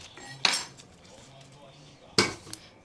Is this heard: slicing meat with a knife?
yes